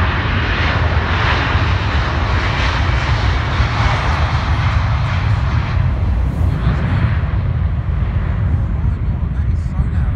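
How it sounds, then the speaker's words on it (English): A Delta Boeing 767-400 airliner departing Heathrow gives a continuous loud, broad jet engine roar with deep rumble, steady throughout and fairly close. "Delta 767-400. Smokey Joe. Now, I believe this is off to Atlanta."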